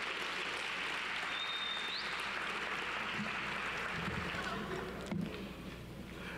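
At a DC public charter school graduation, the audience applauds the commencement speaker with steady, fairly distant clapping from a large crowd that holds even for most of the stretch, with murmured voices mixed in.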